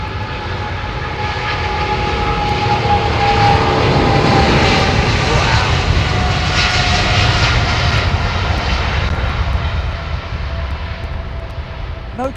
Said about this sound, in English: Wow, listen to those engines.